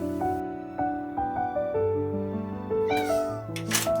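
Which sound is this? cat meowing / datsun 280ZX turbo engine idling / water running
cat meowing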